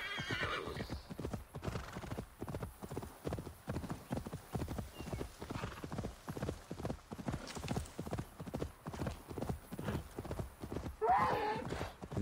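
Hoofbeats clip-clop in a steady, continuous rhythm across the whole stretch while a horse whinnies near the start and again near the end, all from the video game Assassin's Creed Valhalla.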